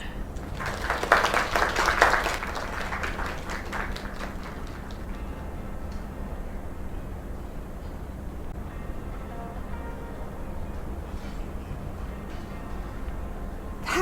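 A small crowd at a live performance applauds loudly for several seconds, the clapping then thinning into a few scattered claps before the room settles into low ambient murmur.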